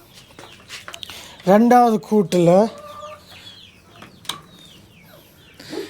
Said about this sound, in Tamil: இதுக்குள்ளே 3 கோழிகள் இருக்குது